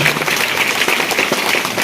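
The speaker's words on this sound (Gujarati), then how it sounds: "તો જોરદાર એમને પણ આપણે તાળીઓથી વધાવીએ" A village audience at an Independence Day celebration claps together, a dense, steady burst of applause close by with no pauses.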